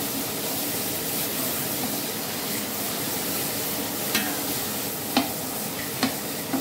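Ginger and garlic fry in a pan in a hotel kitchen while borsuri dal is being made. A steady sizzle with stirring runs throughout, broken by a few sharp ticks of the spoon near the end.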